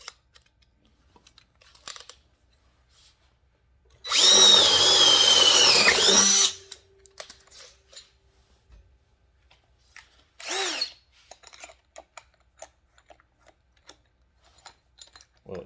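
A Ridgid drill driver boring a 1/2 inch twist bit into material, one loud sustained burst of about two seconds, followed later by a shorter whirring pulse amid quiet handling clicks.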